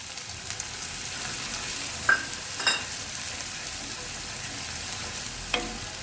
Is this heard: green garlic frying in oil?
yes